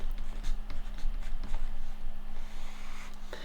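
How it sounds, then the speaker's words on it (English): A pen scratches out a maths inequality question in quick, close, steady strokes with small taps between them, and no one speaks. "So let's write the question out here."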